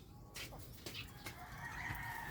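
Hens in a mini aviary cluck in a few short, faint calls from some distance, with light background noise and no talk.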